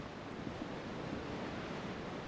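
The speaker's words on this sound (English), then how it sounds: "Waves crashing in the darkness." Steady surf rolls continuously in the Disco Elysium video game, a broad hushing wash of waves crashing in the darkness, with no distinct breaks.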